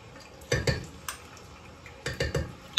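Ginger garlic paste and green chilies are stirred in oil in a pot, with a few sharp metal spoon scrapes and clanks against the pan in two short bursts, and a faint sizzle underneath.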